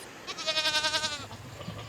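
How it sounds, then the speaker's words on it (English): Sheep and goats bleat in a herd in the mountains, one wavering, quavering bleat standing out clearly over a soft outdoor background hiss, fading away afterward. "a herd of sheep and goats appear from the mountains, along with their shepherd"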